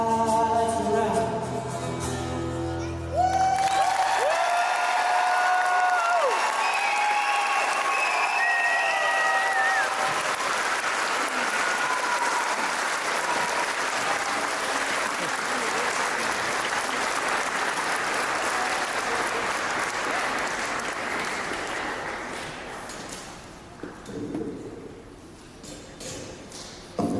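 An audience at an 8th grade graduation at Grangeville Elementary Middle School bursts into sustained applause after a song's final notes, the steady clapping continuing for about twenty seconds before tapering off.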